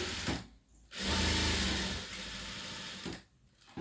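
A sewing machine stitches a boat neck blouse in short close-up runs, its motor whirring in two bursts separated by quiet pauses and a brief stop at the end.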